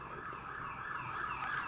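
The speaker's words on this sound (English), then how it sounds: "trying to let this ambulance go past. I don't know if you can hear it or not." An ambulance siren wails continuously as it passes at a moderate distance, its rising and falling tone sitting over faint traffic rumble.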